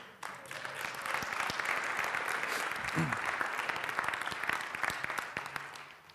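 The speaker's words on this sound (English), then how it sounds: "I think they're clapping both, Rocky" Church congregation at a congregational meeting applauding in a dense, steady wash of clapping that holds throughout, with faint voices underneath.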